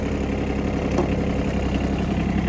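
A 2001 Kubota B52 compact tractor with a mechanical gearbox idles steadily, its low diesel rumble constant and close throughout with no talking.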